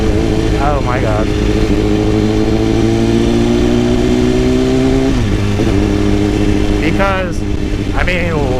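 A 2010 BMW S1000RR sport bike is ridden through downtown Houston, its engine droning loudly and close with a sudden shift in pitch partway through and a few quick revving flares.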